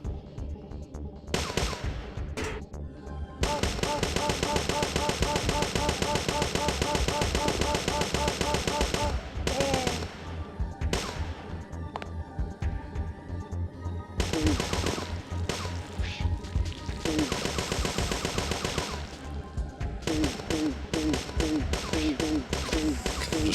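Sustained automatic gunfire from a held trigger in Parasite Eve II, long rapid bursts of loud shots broken by short pauses and a few single blasts.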